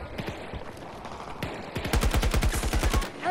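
Rapid automatic gunfire from Battlefield 2042 gameplay, a fast close burst of evenly spaced shots near the end after scattered single shots and background game noise.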